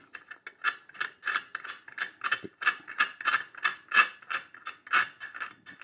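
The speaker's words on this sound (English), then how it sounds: "you take your, hopefully your Hunterworks puller, and you want to screw it in there about 1 inch" A Hunterworks clutch puller is screwed into a Can-Am Defender HD11 clutch, giving a steady run of close ratcheting clicks, about two each second, with no talk.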